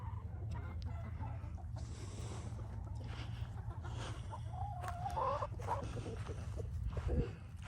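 Chickens cluck softly over a low steady background rumble, with a few brief bird calls rising near the middle; faint and fairly distant, with little talk.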